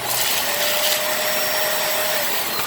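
A Dyson Animal 2 vacuum cleaner runs close and loud with a constant whooshing suction roar and a faint high motor whine, steady throughout.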